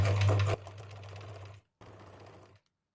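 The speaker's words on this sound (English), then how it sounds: "I'll be pulling out the pins as I'm sewing" A sewing machine runs in a steady, loud whir while stitching a towel skirt at stitch length 2.5, pausing briefly before a second shorter run; no voices.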